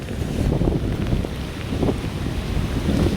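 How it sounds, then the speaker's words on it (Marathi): Strong monsoon wind blows in gusts across a flooded coastal area near Dahanu, a loud, low rumbling roar buffeting the microphone without pause; no voices are heard. "छत्री बंद केली मी, कारण की एवढा वारा येतोय"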